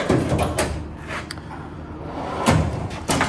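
A tool box drawer slides open with scraping, rumbling metal noise and a couple of bumps and knocks, fairly close and loud, with no talking.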